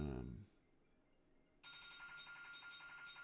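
Telephone ringing: a loud bell-like ring at the start cuts off, a brief quiet gap follows, then a bright electronic ringtone begins and holds steady to the end, with no talking.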